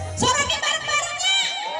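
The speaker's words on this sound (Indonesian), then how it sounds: "Soraknya bareng-barengnya." A crowd of children and adults shouts and cheers together on cue at a lively gathering, a loud burst of mixed voices whooping for a couple of seconds.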